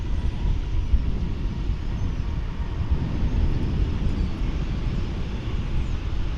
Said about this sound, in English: The Frontier flight is getting ready to depart